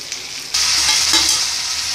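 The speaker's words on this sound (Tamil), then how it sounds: "நல்லா வதங்கிடுது அதுலேயே இல்லையா வதங்கிட்டு இருக்கு" Masala for puli kuzhambu sizzles and crackles in hot oil as it is stirred in a pan, a close, steady frying hiss that jumps louder after a brief quieter start.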